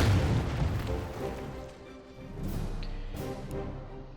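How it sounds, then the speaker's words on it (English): A heavy artillery boom in the Order of Battle: Pacific strategy game, a deep blast at the start that rumbles and decays over a few seconds, followed by fainter distant thuds. "This artillery I'm going to use"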